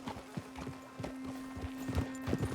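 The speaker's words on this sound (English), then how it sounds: "Crazy horse." Horse in Red Dead Redemption 2 moving at a trot, with a steady run of muffled hoof clops over a constant low hum, each close, moderate step landing in a quick regular rhythm.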